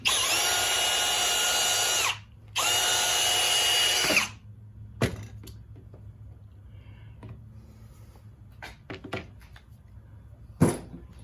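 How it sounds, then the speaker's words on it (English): A power drill whines loudly twice in a row, a 7/16 bit boring into metal on a Toro snow blower, then stops, followed by scattered clanks and knocks of handling tools. "I chucked up a 7/16 drill bit to put in these holes to open them up"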